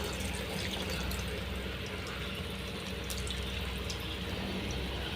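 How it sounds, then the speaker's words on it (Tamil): Tamarind water pours steadily into a pot of turkey berry curry in a continuous splashing rush, close and fairly loud, with no one speaking. "இந்த டைமில் நம்ம கரைச்சி வச்சுருந்த புளியையும் ஆட் பண்ணிடலாம்."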